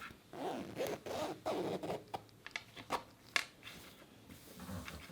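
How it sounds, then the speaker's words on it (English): A zipper is pulled closed on freshly sewn fabric, giving a quiet, close-up run of rasping, scratchy bursts with short pauses between the pulls. "close the zipper."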